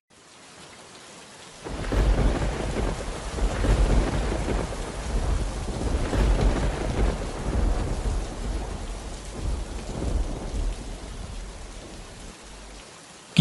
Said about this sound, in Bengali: কি যে বৃষ্টি শুরু হলো সারাদিন, বৃষ্টি থামার কোনো লক্ষণই দেখছি না